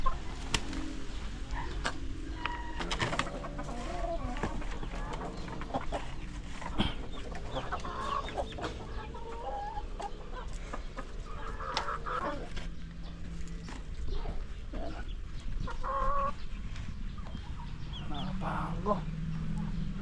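Laying hens about seven months old cluck and cackle continuously nearby in a farm setting, with a person speaking intermittently among the birds.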